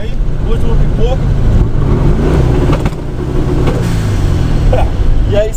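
A Volkswagen Fusca with a turbocharged 1700 engine revs on a 3-step launch control, its loud, continuous engine roar holding steady with sharp pops and bangs scattered throughout.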